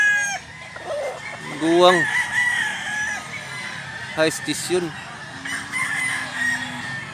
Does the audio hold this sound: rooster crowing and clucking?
yes